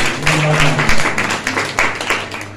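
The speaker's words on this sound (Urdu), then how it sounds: "کوئی زوردار تالیاں لگائیں زندہ جا کے۔" A church congregation at a Sunday service breaks into loud, sustained applause, a dense wash of claps with uneven bursts rising and falling throughout.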